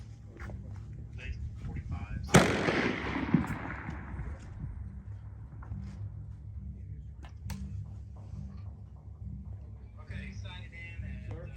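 A single AR-6.5 Grendel rifle shot at a shooting range, one sharp crack with a decaying tail, followed later by a second fainter report, heard over steady background hum and a low voice.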